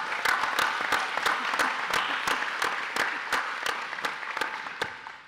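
Audience applause at a county mayor's state-of-the-county address, a steady round of clapping with distinct sharp claps standing out, tapering slightly toward the end.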